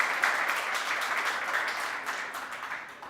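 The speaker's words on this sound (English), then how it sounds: "First of all, a big round of applause for this" An audience applauds after a presentation at a blockchain adoption meet-and-greet: brief, steady clapping from many hands at moderate volume, fading slightly toward the end.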